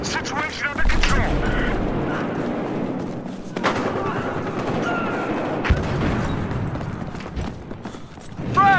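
Incendiary grenade going off in an online Battlefield Hardline match on PS4, a heavy blast followed by roaring fire and bursts of gunfire, with a voice calling out over the chaotic battle noise.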